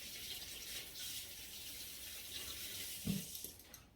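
A kitchen tap runs water steadily at low level while small candy dipping tools are rinsed, with a brief clink of metal near the end.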